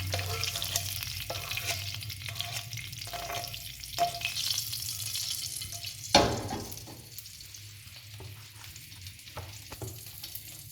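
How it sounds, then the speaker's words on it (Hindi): A Peshawari chapli kebab mixture being worked together by hand in a bowl gives a steady, moist squelching and scraping, with one louder knock partway through and no voices. "इसे अच्छी तरह से हम मिक्स कर लेंगे।"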